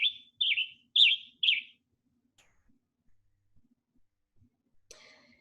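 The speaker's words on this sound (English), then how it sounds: "A very beautiful bird that we have here in Canada, the Western Tanager. I'm going to play a little bit of his call here for you." A Western Tanager calls four times in quick, evenly spaced, slightly burry chirps, clear and close against silence, followed by a faint short note.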